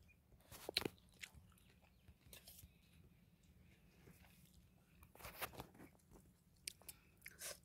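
Someone eats kanda poha, flattened rice with onion, grated cabbage and a squeeze of lemon, making faint, close crunching and chewing bursts in a quiet outdoor setting with soft background noise.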